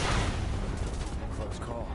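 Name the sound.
gunfire in video game Final Fantasy 7 Remake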